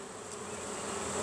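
Honey bees buzzing around an open beehive, a dense, steady close-up drone with no other sounds.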